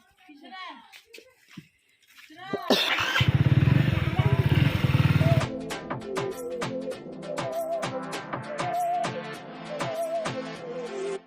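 A motorcycle engine starts and runs with a steady rumble, then settles into idle while music with singing plays over it.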